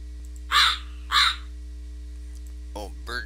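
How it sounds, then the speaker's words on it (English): Crows caw in a video game, two loud harsh calls followed by a pair of quieter, shorter caws, set over a steady low background hum with no other sounds. "Oh, bird sounds."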